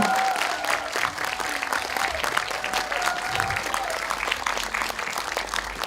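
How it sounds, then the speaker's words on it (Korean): Audience applause welcoming actors Ahn Sung-ki, Kim Ho-jung and Kim Gyu-ri to their seats at a film talk event, dense continuous clapping from a crowd, steady and full, with a faint voice briefly underneath. "뜨거운 박수 부탁드리겠습니다"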